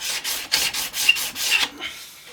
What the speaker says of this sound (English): great way for sanding curves is just to wrap a piece of towel or an old brush handle in a bit of sandpaper